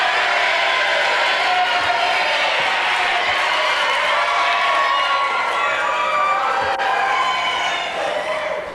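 A live theatre audience cheers and shouts for the hero entering a stage melodrama, a dense, sustained wash of many voices, loud and close throughout.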